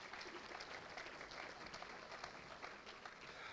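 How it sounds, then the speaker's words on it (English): Audience applause at a city's State of the City address, a fairly faint, even patter of many hands clapping heard from a distance, sustained throughout. "A round of applause, Senator Gary Peters."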